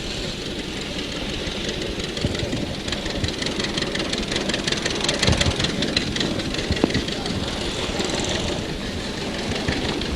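A 1938 John Deere L antique tractor drives past in a parade at an antique gas engine and tractor show, its engine a steady low chugging rumble that runs throughout, fairly loud and near.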